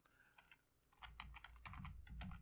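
Rapid clicking of keys on a computer keyboard, quiet and close, in uneven bursts with short pauses between strokes.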